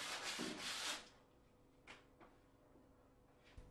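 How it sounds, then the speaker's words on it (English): Medium-grade glass paper rubbed along the planed edge of a wooden door, a soft, faint scraping at the start followed by a few quiet light knocks. "Now rub the planed edge down with a medium-grade glass paper."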